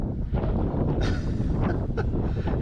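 Strong wind gusting at an RC flying field, a loud, continuous low rumble buffeting the microphone with rising surges.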